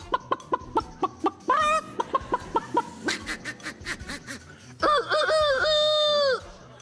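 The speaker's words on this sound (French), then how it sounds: "Le petit coq babé." A small rooster crows several times: first a string of short clucks, then two drawn-out cock-a-doodle-doo calls, loud and close, with no voices over them.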